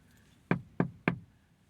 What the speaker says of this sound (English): Knock on the window.